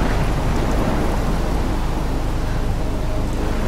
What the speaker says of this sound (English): it's dark and stormy and windy and rainy